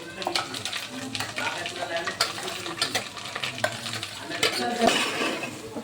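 Gongura (sorrel leaf) paste frying in hot oil with turmeric while a spoon scrapes and stirs it around the pan, steady sizzle with repeated clinks of utensil against metal, close and busy throughout.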